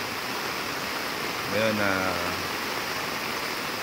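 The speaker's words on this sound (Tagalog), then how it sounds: "Ang lakas ng ulan dito ngayon sa Daet" Heavy rain pours in Daet, Philippines, a steady loud hiss throughout, with someone speaking briefly in the middle over the downpour.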